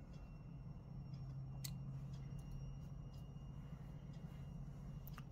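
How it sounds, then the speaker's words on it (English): Scissors cut through crochet yarn in a few faint, brief snips over a quiet, steady background hum. "And then cut the yarn."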